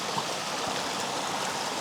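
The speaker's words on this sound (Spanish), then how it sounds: "esta pequeña caída de agua se ve excelente" Small waterfall flowing in a steady, even rush of water in a landscape setting, continuous and close with no other sounds.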